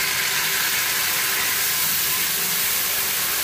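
Grated medium-sized tomato hits a hot pan with ginger paste for Pakistani dal gosht, giving a steady, dense sizzling hiss that stays fairly loud and even throughout, with no talking.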